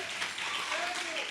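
A church congregation applauds during a sermon, a dense wash of many hands clapping at moderate distance, continuous and fairly soft, with a voice speaking over it.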